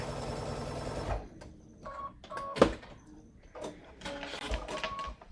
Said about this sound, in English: And I guess we can show her sewing